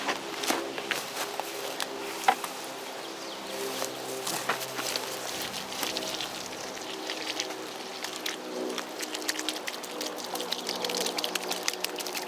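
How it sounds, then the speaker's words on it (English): Water is poured onto worked soil at the base of a newly planted tree on a homestead, giving a soft, steady splashing and trickling that runs throughout, fairly close and moderate in level. "we'll water it"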